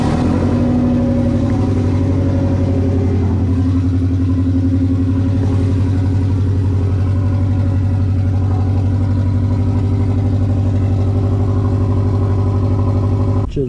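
A turbocharged project car engine runs loud and steady for the whole stretch, a deep sustained drone with harmonic layers that shift slightly as it is revved, ending with a brief knock.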